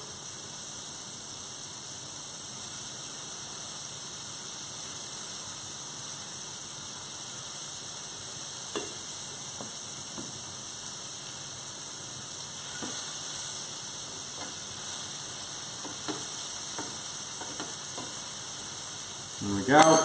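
Mushrooms sizzle steadily in a hot pan with a continuous soft hiss and faint crackles, and a brief louder clatter comes at the very end.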